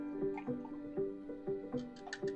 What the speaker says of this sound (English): I'm just going to pour this over some ice.